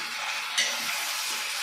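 Onions sautéing with chopped carrots and beans in a pan, giving a steady close sizzle with soft stirring scrapes and a brief louder stir partway through.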